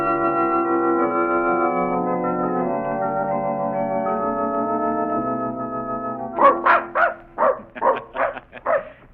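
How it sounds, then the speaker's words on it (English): A happy dog barks and yips in a quick, excited burst of sharp, loud barks near at hand, following a long stretch of sustained harmonic tones. "I never seen a dog act so happy."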